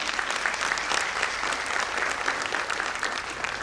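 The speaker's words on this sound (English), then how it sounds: "Let us all clap for her." Audience applause for a young girl singer at a school event, a steady, dense clapping from many hands that holds evenly throughout, close and fairly loud with no voices over it.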